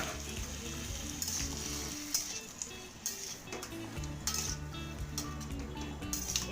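Ground pumpkin seed and ginger paste being mixed into a turmeric-seasoned curry in a pan, heard as steady sizzling with scraping stirs and light clinks of utensil on metal, fairly quiet and with no voices.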